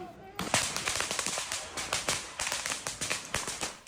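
Fireworks and flares let off by protesters during overnight riot clashes with police, heard as a rapid run of sharp cracks and bangs, fairly close and loud, over a dense crowd din.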